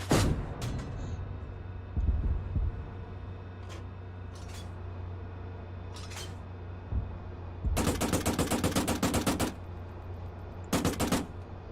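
Gunfire in the Arma 3 military game: a few isolated sharp shots spaced apart, then long rattling automatic bursts and a final short burst, loud and close over a constant low engine-like rumble.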